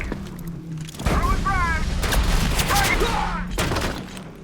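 Loud in-game blasts and a rumbling explosion burst through, with excited voices reacting over the noise.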